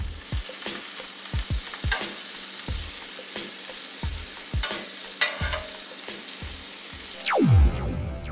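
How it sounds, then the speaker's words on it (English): Whole wheat slider rolls with a little sauce sizzle on a griddle, a continuous hiss punctuated by repeated sharp taps and clicks of a spatula, ending in a brief louder scrape. "Add a little sauce and griddle them bad boys up"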